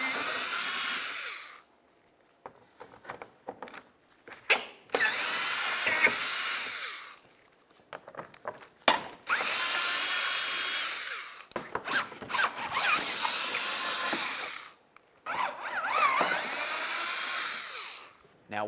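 A power tool spins out 10mm bolts beneath the front of a 2007-2012 Nissan Sentra, five bursts of high whirring, each a second or two long, separated by short pauses with faint clicks and rattles.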